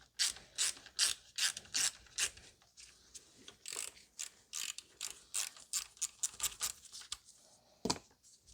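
Ratchet backing out a T25 Torx bolt on a bracket holder of a 2016 BMW M235i's 3.0 L turbo N55 engine, rapid bursts of close metallic clicking in quick repeated strokes with short pauses.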